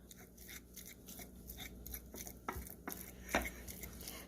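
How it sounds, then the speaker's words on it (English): A fork mixing cream cheese in a bowl, giving faint, quiet scraping and tapping strokes in an uneven rhythm, with a couple of slightly louder clinks, no talking. "I'm going to grab a fork, and you just want to mix it up like so"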